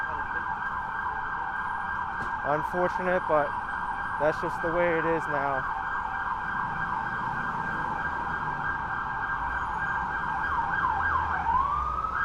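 Emergency vehicle sirens, including an FDNY vehicle, wail steadily through congested traffic on a Manhattan street in Chinatown, a continuous loud rising-and-falling tone throughout, with someone talking briefly over it partway through.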